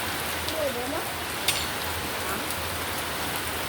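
Steady rain falls outdoors during a family dinner, a dense, even hiss that holds through the whole stretch with one brief sharper tap partway through.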